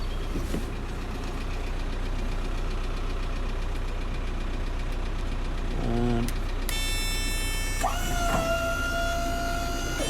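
A 2015 VW Crafter 2.0 TDI single cab tipper van idles with a steady diesel clatter throughout, joined midway by a brief mechanical whir and later a rising electronic whine from the tipper controls.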